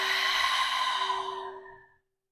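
A single long, deep exhale during a yoga practice, close and steady, easing off and fading to silence after about two seconds.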